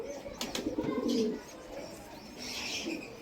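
Soft cooing from closed-tail pigeons nearby, with a few faint chirps and light rustling in the background.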